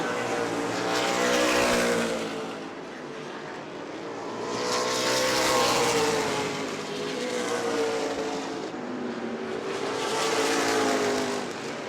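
Short-track race cars at full throttle at New Smyrna Speedway, engines roaring loudly and sweeping past in three rising-and-falling passes that overlap into one sustained wall of sound.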